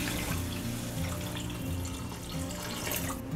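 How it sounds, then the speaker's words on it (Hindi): Water pours into a pan for a potato and green pea curry (nimona), a steady splashing stream running for a few seconds, close and moderately loud, without speech. "कप से 3 कप पानी डालेंगे"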